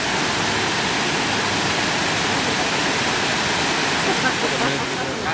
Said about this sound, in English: the water's flowing out on the other side